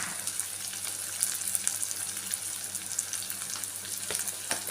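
Onions fry in a pan for a tindora (ivy gourd) tomato curry, giving a steady, close sizzle with light scattered crackles and occasional stirring.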